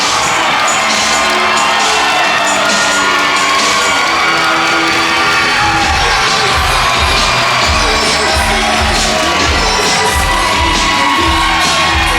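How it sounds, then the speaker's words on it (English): A sold-out wrestling crowd in a Pittsburgh arena roars and cheers after a championship win, a loud, continuous wall of shouting, whoops and screams that never lets up. "This sold-out crowd here tonight in Pittsburgh erupting in a joyous roar."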